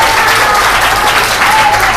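Steady congregational applause fills a church prayer service, a dense continuous wash of many hands clapping together at full volume with no gaps.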